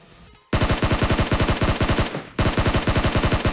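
Automatic gunfire in the mobile video game BGMI, two loud close rapid bursts of evenly spaced shots, the second following a short pause.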